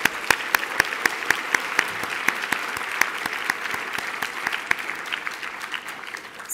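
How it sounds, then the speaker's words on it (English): Sustained applause from an audience honoring awardees at an awards luncheon, with a few sharp, louder claps standing out close by over the steady crowd clapping before it tapers off. "Let's give all those awardees another round of applause."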